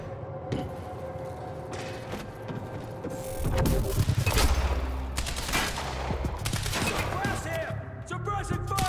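Suppressing gunfire in the Quantum Break video game, rapid bursts of automatic shots with mechanical clatter that swell into a dense fusillade midway, with faint game voices underneath.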